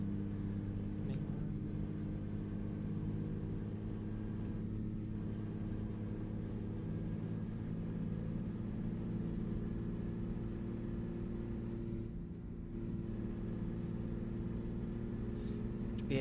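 Modded truck engine in a truck driving video game, a steady low droning rumble with a faint high whine above it, holding constant at cruising speed for the whole stretch with no talk.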